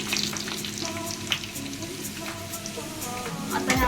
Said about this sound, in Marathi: थोडं तेलामध्ये आपल्याला हिंगच टाकायचं आहे